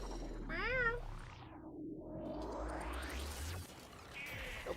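A cat meows several times with her mouth full of a toy, the calls muffled and warbling, each one rising and falling, heard fairly close in a quiet apartment with no one talking.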